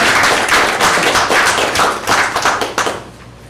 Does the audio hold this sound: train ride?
no